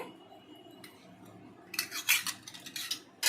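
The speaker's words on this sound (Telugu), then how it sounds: "కలుపుకోవాలండి, బాగా కలుపుకోవాలండి, మసాలా పెట్టినట్టు ఇట్లా కలుపుకోవాలండి" A metal spoon clinks and scrapes in a bowl while masala is mixed into raw chicken, soft at first and then a burst of quick, close, bright taps.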